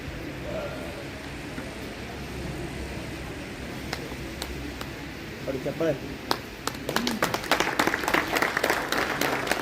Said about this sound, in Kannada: ಚೋರ ಚಪ್ಪಾಳೆ ಮೂಲಕ ಪರಮ ಪೂಜ್ಯರ ಈ ವೇದಿಕೆಗೆ ಸ್ವಾಗತ ಮಾಡ್ತಿದ್ದೀವಿ